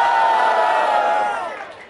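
Crowd at a street rap battle, Batalha da Leste, cheering and shouting together in a loud, sustained roar that starts strong and slowly fades toward the end.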